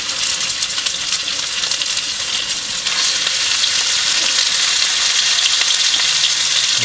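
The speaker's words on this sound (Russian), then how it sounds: "Жареная щука." Freshly caught pike fries in a pan inside a tent on a fishing trip, giving a loud, continuous close-up sizzle and crackle that grows slightly denser partway through, with no voices.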